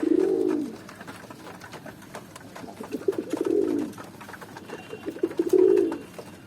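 Pigeons eating food on a rooftop coo in three soft, throaty bursts spaced a couple of seconds apart, close by with faint background noise and no talking.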